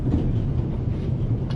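Steady, close rumble of a train rolling along the rails in The Raven Remastered, a dense low clatter with no voices.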